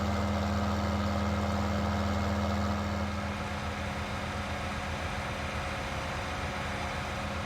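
John Deere 9R wheeled tractor with triple wheels in Farming Simulator 19, its engine droning steadily at a low idle with a constant hum, slightly dropping in level partway through, no talking.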